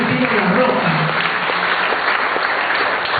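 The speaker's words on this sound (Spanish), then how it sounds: "dando un aplauso al Señor" A church congregation applauding together, dense continuous clapping filling the room, with a voice speaking over it throughout.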